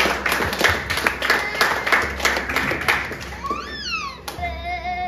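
A church congregation claps together at a service, a steady rhythmic applause that fills the room at moderate loudness, with rising tones at the end from music or an instrument.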